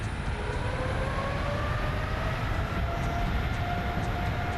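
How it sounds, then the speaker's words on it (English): Thrust reversers of a Boeing 737 Max after touchdown in X-Plane 11, a steady loud roar of engine rush and broadband rumble with faint whining tones, continuous and unbroken. "And there's the reversers."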